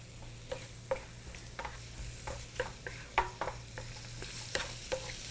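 Squid stir-frying in melted butter in a pan: a soft continuous sizzle broken by regular scraping stir strokes, about two per second, close up with no talking.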